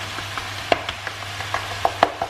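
Yogurt is stirred into lamb chops in a hot pan, with a spoon scraping and clacking in irregular taps over a soft sizzle, close and fairly loud, with no talking.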